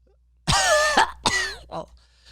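A voice imitates a cough, two sharp coughing bursts followed by a softer third, close and otherwise quiet.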